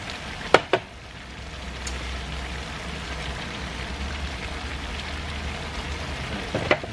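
Igado sauce with vinegar simmering in a pan, a soft steady sizzle and bubbling throughout, with a couple of sharp clinks of a utensil near the start and again at the end.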